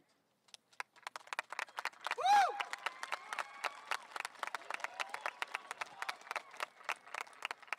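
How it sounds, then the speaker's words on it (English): At a high school graduation ceremony, scattered claps start sparse and gradually thicken into a crowd's clapping, with one sharp whistle partway through. "It's okay to clap sometimes."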